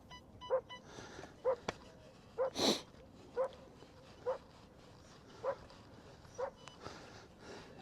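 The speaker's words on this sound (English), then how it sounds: "Apologise for the dogs in the background." Dogs bark in the background near a beach in Devon, giving about a dozen short, evenly spaced barks at a moderate distance, all fairly faint.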